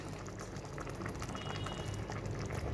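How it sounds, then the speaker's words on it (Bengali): Bacha fish curry simmering in a pot, a steady bubbling boil with soft gurgles and light spattering, close and continuous with no talk over it. "আমি এটাকে আরেকটু ফুটিয়ে নেব।"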